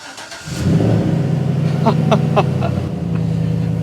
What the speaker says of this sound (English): to have that nice throaty sound to the truck just makes it sound so much more of a truck